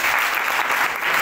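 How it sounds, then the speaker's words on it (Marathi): Audience applause at a student research competition with poster, model and rangoli displays, steady dense clapping from a crowd filling the whole short moment, loud and continuous without pause. "please give them a big hand all of you"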